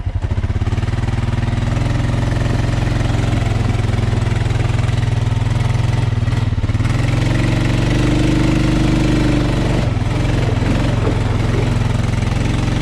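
A quad ATV engine starts up and idles at close range, a loud steady mid-pitched chugging that holds continuously with slight fluctuations.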